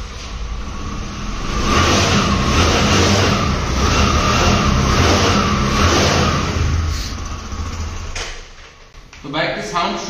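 A Bajaj Discover 100cc motorcycle engine runs steadily and revs up close by, holding a loud, even drone for about eight seconds before it drops off and a brief clatter follows.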